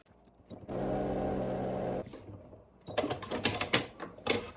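A sewing machine stitches fabric strips for a crazy quilt block. It runs as a steady whirring hum for about a second and a half, then a stretch of quieter, irregular clicks and fabric handling follows.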